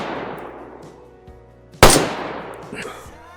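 A single sharp shot rings out from a scoped rifle in the game Screaming Dayz, loud and close, followed by a ringing echo that fades over about a second. A quieter reverberant tail precedes it.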